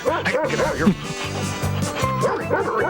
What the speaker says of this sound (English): Oh, there's that dog.